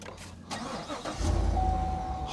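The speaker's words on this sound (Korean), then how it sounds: "시동소리 좋아." A Cadillac Escalade ESV starts up with a short crank and a deep engine catch that swells into a low rumbling idle, heard close from inside the vehicle.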